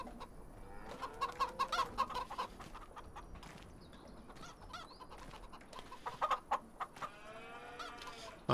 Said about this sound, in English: Chickens are doing good.